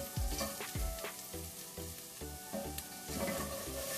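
Aloo gobi ingredients of potato and cauliflower sauté in a hot pan, a steady close sizzle broken by repeated scraping stirs and clinks of a utensil, with no voices.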